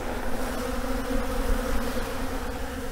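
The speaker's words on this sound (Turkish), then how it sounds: "Birebir şekerden hazırladığımız arımızın durumu." Honeybees buzz steadily at a hive fed with sugar syrup, a dense, continuous hum close by with no voices.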